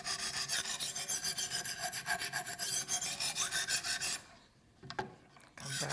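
A knife blade is worked on a Wicked Edge sharpener, stones rasping against the steel in quick rhythmic back-and-forth strokes for several seconds, then a pause broken by a couple of sharp taps before the scraping resumes.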